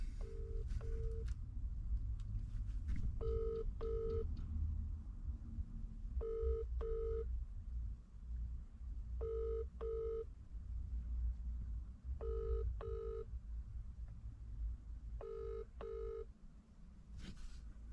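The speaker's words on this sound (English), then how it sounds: "let's give Dan a quick call" A phone call rings out while being placed: paired ringback tones repeat at regular intervals over a low background rumble, with no one picking up.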